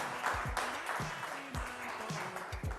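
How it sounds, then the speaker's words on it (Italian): Audience applause for Alice at the Miss Sorriso pageant stage show, a steady wash of clapping from a crowd lasting throughout, with low thumps and faint background sounds mixed in, no speech over it. "Un applauso per Alice e grazie."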